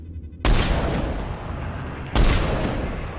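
Two heavy gunshots from a weapon in the video game Mass Effect 3, each a sharp loud blast followed by a booming decaying tail, spaced well apart.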